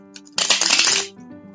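A deck of tarot cards is shuffled close up, a single crisp riffle of rapid fluttering flicks lasting well under a second, with faint taps before it and a soft settling afterward.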